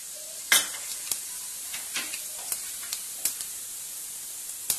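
Cumin seeds drop into hot oil for chole, giving a faint sizzle under a series of sharp metallic clicks and taps from a spoon stirring the pan.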